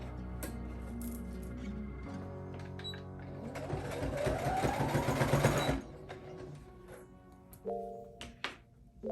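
A sewing machine stitches around a balloon (puff) sleeve in short bursts, its whirring rising and falling close by, with a few quiet clicks and fabric handling between runs.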